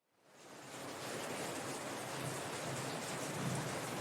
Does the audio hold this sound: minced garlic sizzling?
no